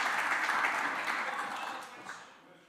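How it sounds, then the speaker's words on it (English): Audience applause for a speaker at a German NGS competence centers conference session, a faint, even wash of many hands clapping at a distance that fades out toward the end. "Applause for you"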